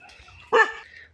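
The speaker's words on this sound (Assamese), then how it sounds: "এই কুকুৰটোই এই হাত দেখি পুৰা একদম মাত দিছে" A dog gives a single short, sharp bark partway through, close and loud against an otherwise quiet background.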